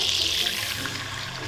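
Whole milk poured into a pan of melted butter makes a steady, splashy liquid rush that fades gently over a moment, close and alone.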